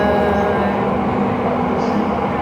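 A Palembang LRT light rail train runs steadily toward Kumbirayu Station, its continuous wheel-and-motor rumble and hum filling the cabin without a break, with no clear talk over it.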